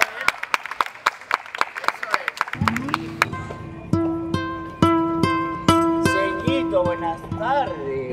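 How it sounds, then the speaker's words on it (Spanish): An audience claps for a performer in a short film, a brisk run of close, sharp claps that gives way to sustained music with a plucked, bell-like melody. "Aplausos, por favor, para él."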